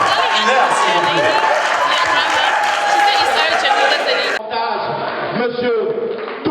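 Dense audience applause and crowd noise fill a large room at a live stage show in Washington, D.C., loud and continuous, thinning slightly near the end with chatter showing through.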